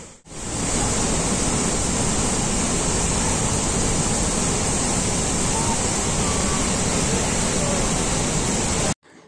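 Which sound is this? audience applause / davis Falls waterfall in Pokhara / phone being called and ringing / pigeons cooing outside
davis Falls waterfall in Pokhara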